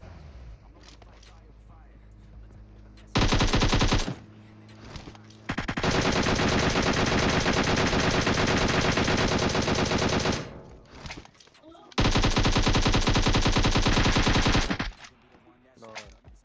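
Long, loud bursts of machine gun fire in a video game rattle in three sustained volleys separated by short pauses, with quieter game sounds in the gaps.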